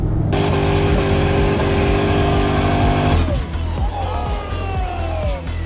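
A restored 1954 Chevy 3100 pickup driving on the road, steady engine drone with a shift in tone partway through, then a rougher rising and falling note, heard from close by with no talk.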